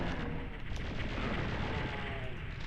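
Chaingunner enemies fire in the PS1 Doom: Master Edition, a steady, dense burst of gunfire and booming impacts that runs loud and continuous through the whole stretch.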